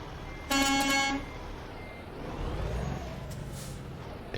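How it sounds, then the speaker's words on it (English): A 1988 Ford CL 9000 truck in American Truck Simulator sounds a short, loud horn blast over a steady engine rumble, followed by a hiss like an air brake. "I honked that girl to say"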